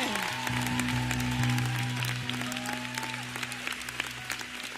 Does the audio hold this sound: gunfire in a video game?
no